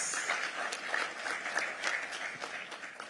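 A conference audience breaks into sustained applause, dense overlapping clapping from a hall of people lasting about three seconds at a fairly even level.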